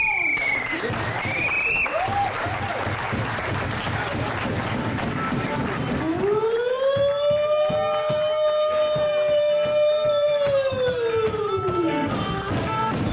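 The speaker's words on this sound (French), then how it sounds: "c'est à la sirène" A siren sounds at an improvised cabaret show, starting with rising and falling wails, then holding a long loud steady tone from about six seconds before dropping away, over a lively crowd and clapping.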